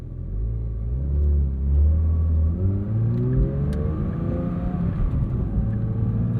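Engine of a 2025 Porsche 911 GT3 revving, a loud close mechanical growl that rises and falls in pitch across several throttle swells, with no talking.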